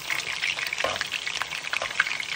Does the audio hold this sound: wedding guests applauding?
no